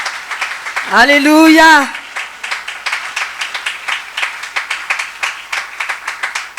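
Church congregation applauding loudly after a sung Alleluia at a Sunday service, a dense run of rapid claps continuing steadily for several seconds after a brief chanted voice.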